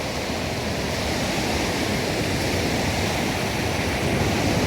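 Ocean waves wash onto a sandy beach with wind blowing, a steady, dense roar of surf with no distinct breaks, close and continuous throughout.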